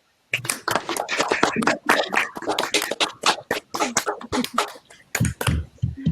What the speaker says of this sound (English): unmute and give a big round of applause for Carmela and Dipti